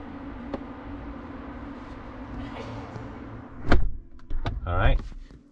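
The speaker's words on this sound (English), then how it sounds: "so let's close the door" A 2021 Rolls-Royce Ghost car door swings shut with a solid thump, followed by a couple of softer clunks and rustling movement nearby.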